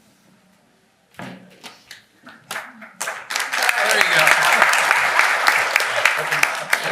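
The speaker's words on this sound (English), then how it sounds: "it's kind of a sympathy applause" Audience applause at a District 3 meeting and election: scattered claps build into sustained, fairly loud clapping from a room of people, with a brief voice at the start.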